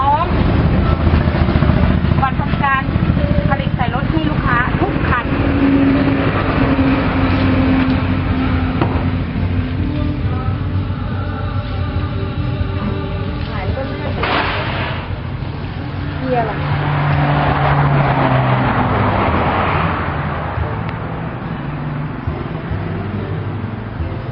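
Six-wheel e-taen farm dump truck with its engine running nearby, a steady rough mechanical drone with shifting tones throughout, a voice talking over it at times.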